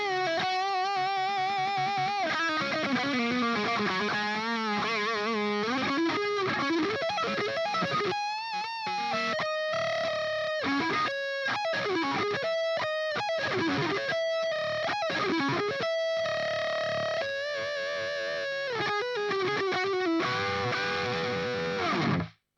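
An electric guitar plays a distorted lead line through a Line 6 POD HD Pro, sustained saturated notes and quick runs ringing out continuously and loud, with no talking.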